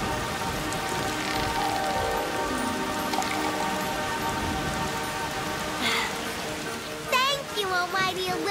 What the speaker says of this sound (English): I will make it rain.